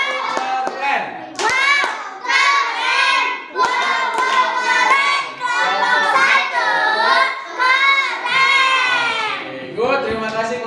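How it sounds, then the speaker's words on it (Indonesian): Young children in a third-grade classroom clap together for a student group, a loud, dense burst of hand claps and cheering voices running for several seconds with brief pauses. "Kita kasih tepuk keren buat kelompok 1."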